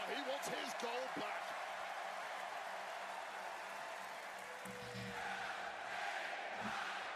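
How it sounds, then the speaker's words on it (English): A wrestling arena crowd at a WWE Backlash event roars and cheers for LA Knight, a broad, sustained wash of distant crowd noise. A commentator's voice sits on top, clearest at the start. "Crowd is all the way behind LA Knight"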